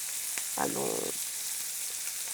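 Okonomiyaki frying in a pan, a steady bright sizzle throughout with a brief low scraping or shifting sound as the pan is turned, no talk.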